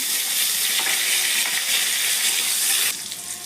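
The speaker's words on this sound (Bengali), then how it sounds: "এই তেলে আমি আলু ভাজাটা দিয়ে দিচ্ছি" Potatoes frying in hot oil with panch phoron spices, a loud, continuous hiss of sizzling that runs steadily close up and then drops slightly in level near the end, with no talking.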